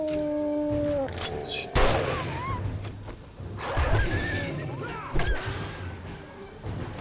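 A dog howls in the 7 Days to Die survival game, a drawn-out wavering cry rising and falling over outdoor ambience, with rustling and thuds around it.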